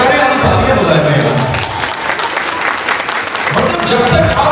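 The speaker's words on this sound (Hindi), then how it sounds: "आप तालियां बजाए जाएगा।" A crowd claps loudly and continuously at an annual company ceremony, with a voice talking over the applause at the start and again near the end.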